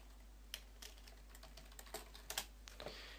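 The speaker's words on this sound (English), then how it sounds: "I'm just going to type something." Someone types on a computer keyboard while setting up a StarMade game server on Windows: sparse, irregular soft keystroke clicks, faint and close, with no talk.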